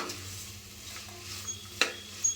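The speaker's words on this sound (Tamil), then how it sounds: "இதுக்கு 1 கைப்பிடி அளவு புதினா கொத்தமல்லி சேர்த்துக்கலாம். சேர்த்து நல்லா கலந்து விட்டுக்கலாம்." Mint and coriander leaves being stirred into masala frying in a pan, a steady soft sizzle with a few sharp utensil scrapes and clinks near the end.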